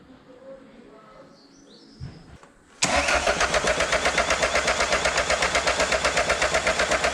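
A Ford Escort van engine is cranked over after a quiet pause, the starter churning in a loud, rapid, even rhythm with rising pulses that continue without catching.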